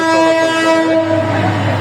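A train sounds a loud, sustained horn as it reaches a busy level crossing in Dhaka, with a low rumble of the approaching wagons beneath the blast.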